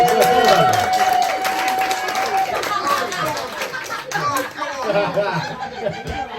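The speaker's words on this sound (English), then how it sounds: "So I think another round of applause for P, actually." An audience in a pub gives a lively round of applause, dense clapping mixed with cheers and chatter, fairly close and sustained for several seconds.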